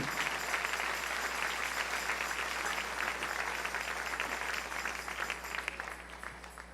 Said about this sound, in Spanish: Dale un aplauso al Señor en esta mañana si lo sientes en tu corazón